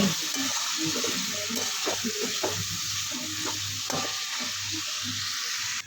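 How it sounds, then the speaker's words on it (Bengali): Salted meat is stir-fried in a pan, with a loud, continuous sizzle and hiss and repeated scraping stirs, close to the listener. No one talks over it. "মাংসটা একটু লবণ দিয়ে দিলাম এবার কষাবো"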